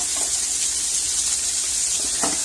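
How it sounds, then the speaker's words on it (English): Onions and mushrooms fry in olive oil in a pan, giving a steady, close sizzle and hiss with a few faint pops and no talking. "I'm going to go ahead and add in my onions"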